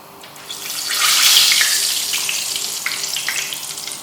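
Chicken tempura pieces frying in hot oil, a broad steady sizzle that swells after a piece drops in, then settles into continuous bubbling hiss with small crackles.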